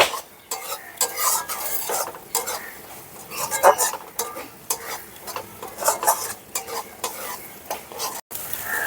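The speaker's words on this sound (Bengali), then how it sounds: "একটু সময় নিয়ে মশলাটাকে ভালো করে কষাতে হবে" Masala paste for paneer masala is stirred and fried in a pan, a steady close sizzle broken by repeated scraping and clinking strokes of a spoon against the pan, with only faint voice in the background.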